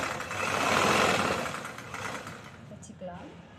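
A sewing machine runs top stitching on a choli, a steady mechanical whirr that swells and then tapers off, followed by quiet faint handling noises.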